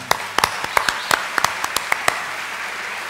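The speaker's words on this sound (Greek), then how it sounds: "ένα μεγάλο μπράβο και ένα χειροκρότημα" Applause at a 1993 pop music awards show: sparse, distinct individual claps ring out over a low steady crowd wash, thinning rather than building into full applause.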